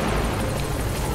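A support helicopter arriving in Metal Gear Solid V, a dense continuous rotor and engine roar that fills the short moment at steady loudness, close and without speech.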